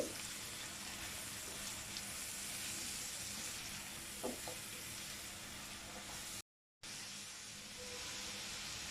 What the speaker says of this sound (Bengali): আদা রসুন একটু ভেজে নিচ্ছি